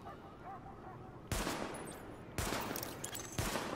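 Sidearm fire from a weapon test in Tom Clancy's The Division: three loud, sharp shots spaced about a second apart, each with a ringing tail, over a low ambient hum.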